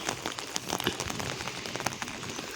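Rain falls steadily on surfaces during a morning of dairy chores, a dense patter of drops with scattered sharper splashes and no talking.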